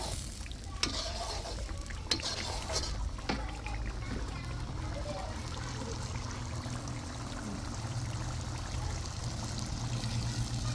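A little water goes into a cooking pan of roast masala, ginger-garlic paste and yogurt, making a faint continuous sizzle and trickle with a few light clinks of stirring.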